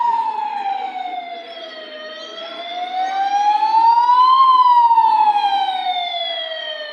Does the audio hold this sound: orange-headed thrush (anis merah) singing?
no